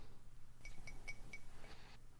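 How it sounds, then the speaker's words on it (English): Glasses clink several times in quick succession, faint over a low background hum, with no talking. "A fun clinking glass."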